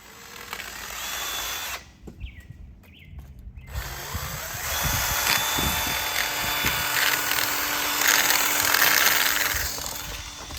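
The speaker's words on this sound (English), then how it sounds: "We're using a drill and then a bunch of these little bits and some brake clean" A power drill with small cleaning bits whirs in bursts, revving up and down against engine metal, with brief pauses and close, loud grinding.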